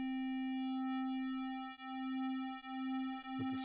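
A sustained, buzzy synthesizer tone from stacked square wave oscillators on a Synthstrom Deluge holds one pitch with bright, metallic overtones and a slow, gentle pulsing in loudness.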